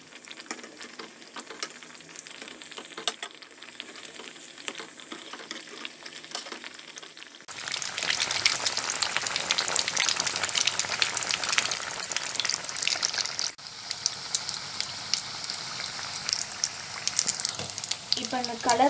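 Veg cutlets frying on a low flame: a quiet background for the first seconds, then a loud, dense crackling sizzle sets in abruptly and carries on steadily close by, with a brief scrape as pieces are turned.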